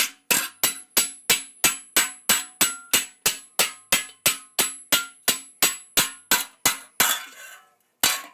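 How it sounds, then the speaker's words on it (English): A round face hammer strikes steel in a quick, regular rhythm while shaping late 14th-century greaves, each blow ringing sharply, about two per second, ending with a scraping clatter. "if you only have a round face hammer, you really can do all of this work with a round face"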